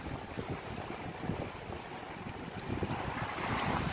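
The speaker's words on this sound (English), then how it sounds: "now this wind is really rough on this side" Strong wind roars outdoors by the water, a dense, continuous rushing with heavy buffeting on the microphone that builds slightly toward the end, with no voices.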